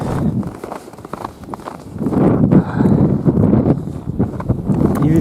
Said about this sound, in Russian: И ветрюган сегодня бешеный.